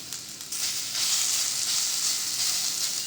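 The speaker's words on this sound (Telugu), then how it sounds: "మనం మిక్సీ పట్టుకున్న కొబ్బరిని" Ground coconut frying in ghee in a pan gives a steady, bright sizzle that swells after a brief softer start and then holds evenly, close and loud with no voices.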